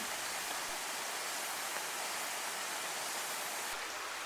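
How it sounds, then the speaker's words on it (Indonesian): A river flowing through Bancea nature park in Indonesia, a continuous broadband rushing wash of water that stays even and unbroken throughout, with no voices. "Beberapa sungai juga mengalir di kawasan Taman Wisata Alam Bancea ini."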